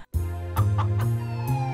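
Cartoon chickens cluck: several loud, close clucks in an uneven rhythm over a sustained, tonal, music-like background, with no speech.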